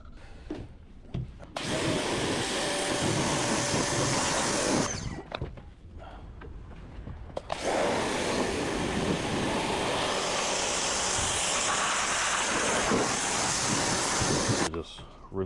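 A 2007 Campion Explorer center console boat gets hosed down, a loud, continuous hissing spray that runs in two long bursts with a short break between, while a person talks.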